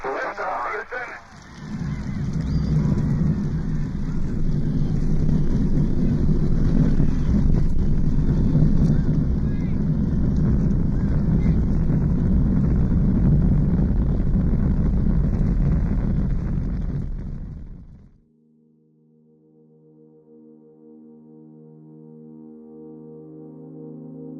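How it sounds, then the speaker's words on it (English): The Apollo 11 Saturn V rocket's main engines roar at launch, a loud, dense, sustained rumble that holds for about fifteen seconds before cutting off abruptly to quiet tones. "We have main engine start."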